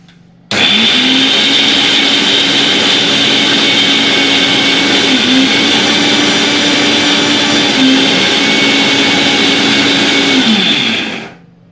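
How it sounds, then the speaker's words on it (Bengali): Kitchen mixer grinder blending green peas with only a splash of water, a loud steady motor whine that starts abruptly, runs for about ten seconds and then spins down, with no voices. "এবার এটাকে কিন্তু আমি মিক্সিতে একটু ঘুরিয়ে নিচ্ছি তো চলো এটাকে ব্লেন্ড করে নিই"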